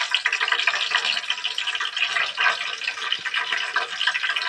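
Green chilies fry in hot oil with cumin, giving a continuous crackling, bubbling sizzle that stays fairly close and even throughout, with no voices.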